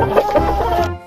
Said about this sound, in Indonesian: Yang ini ayam jago